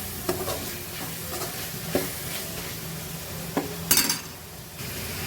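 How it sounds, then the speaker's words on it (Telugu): Mushrooms fry for a curry, seasoned with turmeric and chili powder, sizzling steadily in a pan while a spoon scrapes and clinks against it several times, close and fairly quiet. "ఈ మష్రూమ్ బాగా వేయించి"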